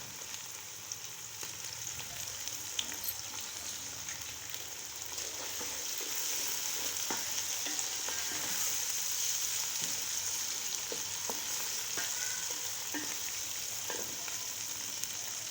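Onion, beef and fresh beans fry in a pan with a steady, close crackling sizzle and occasional stirring clicks, growing slightly louder midway, with no voices.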